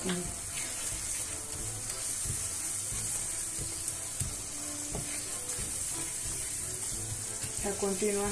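Flour and fried tomato sizzling in a pan while a fish sauce is cooked, a steady bright hiss throughout with occasional stirring scrapes and clinks, close and continuous.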